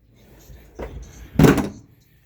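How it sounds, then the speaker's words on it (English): A Decked drawer slides shut in the bed of a 2020 Toyota Tundra TRD Pro, making a short rumble and then a louder closing thud with no talk over it. "But with these drawers, it basically closes in place."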